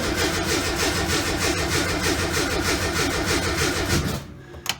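A classic car's engine cranks and runs after sitting in winter storage, a steady loud mechanical churn that cuts off abruptly near the end, followed by a brief click.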